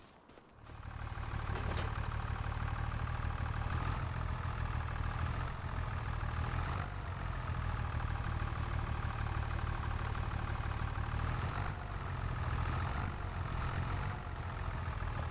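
Tractor engine idling in Farming Simulator 25, a steady low mechanical drone held at an even level throughout with no talk over it.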